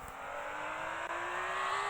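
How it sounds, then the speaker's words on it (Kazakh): A car engine in a Roblox video game hums steadily with a slowly rising pitch as it drives, brief and moderately quiet with no talk. "Машина айдап жүр."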